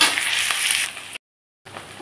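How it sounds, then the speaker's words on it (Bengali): Chopped onions fry in hot oil with black cumin, giving a loud, bright, even sizzle that drops out abruptly for a moment, then resumes. "এখন পেঁয়াজগুলোকে আমি লালচে করে ভেজে নেব।"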